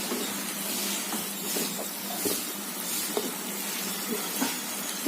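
Drumstick thokku sautéing in a pan, a soft continuous hiss and sizzle with faint occasional stirring scrapes, steady and close, no voices.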